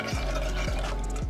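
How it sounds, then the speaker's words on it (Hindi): A spoon stirs an oats soup mixture in a pressure cooker of boiling water, giving three soft scraping strokes at a steady rhythm over a low bubbling hum, close and fairly quiet. "खूब अच्छे से हम इसको मिक्स करेंगे।"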